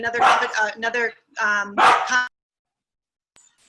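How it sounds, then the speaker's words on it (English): A dog at home barks several times in loud, harmonic bursts nearby, followed by a quiet pause. "sorry, that's my dog, Dolish,"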